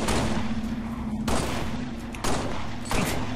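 Bursts of gunfire in Halo: Reach crackle over a steady hum of game ambience, with several sharp volleys at irregular intervals, moderately loud.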